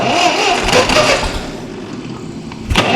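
An old starter motor cranks a Ferguson TEA20 tractor engine, a loud rough grinding churn with uneven pulses and a slight surge near the end.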